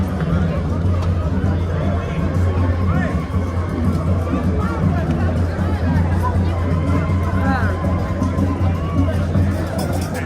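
A dense crowd packs a street junction at London's Notting Hill Carnival, with a constant loud babble of many overlapping voices and a low hum under it, no single sound standing out.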